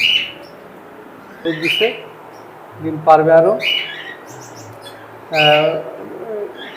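Caged birds at a breeding farm, with nest boxes in the cages, give short harsh squawks and chirps in bursts, close by, with a person speaking between the calls.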